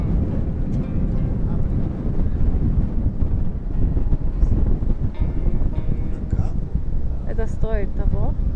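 Strong wind roars steadily across the microphone at night in Paris, buffeting it loudly throughout, while a person talks beneath the gusts.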